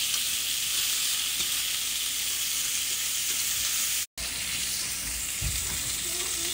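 Meatballs fry in a pot with a continuous, hissing sizzle that holds steady throughout, cut by one brief silent gap near the end.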